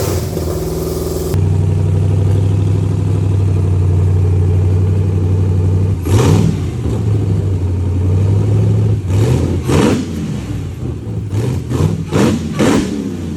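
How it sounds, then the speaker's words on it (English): A Hellcat V8 engine mounted on a pallet outside a vehicle runs at a steady loud idle, then several sharp revs rise and fall near the end, close and alone. "we got the medium well Hellcat engine running on a pallet."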